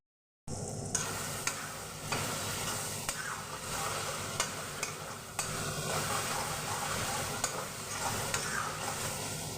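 Onions sizzle steadily in a pan with water and spices added, while a spoon stirs and scrapes now and then, giving faint clicks over a soft, continuous frying hiss.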